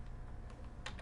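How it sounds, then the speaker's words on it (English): A few quiet keystrokes tapped on a computer keyboard to enter a numeric value, soft and close against a low background hum. "or we can type in a value"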